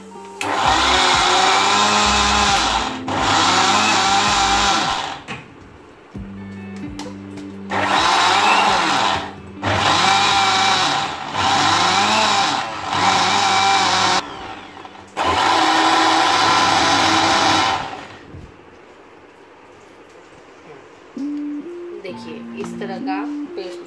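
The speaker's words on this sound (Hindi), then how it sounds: "अब इसमें हम थोड़ा पानी डालेंगे और फिर मिक्सी में पीसेंगे।" A mixer grinder whirs loudly in several bursts of a few seconds each, grinding a coarse batter for surti locho, stopping and restarting, with a person talking in the pauses between runs.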